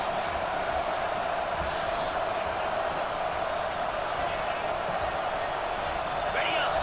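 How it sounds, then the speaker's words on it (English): Steady roar of a large stadium crowd at a college football game, a dense, constant wash of cheering and noise with no breaks, loud and enveloping, with an announcer's voice faintly blended in. "This crowd bringing the energy and noise early"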